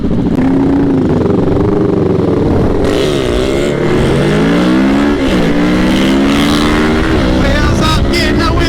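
Sport motorcycle engine revving hard during a wheelie in city streets, loud and close, pitch dropping and climbing through throttle blips and gear changes.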